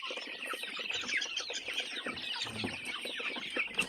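Chickens on a small backyard poultry farm cluck and chatter continuously, several birds close by with overlapping calls and faint scratching, no talking.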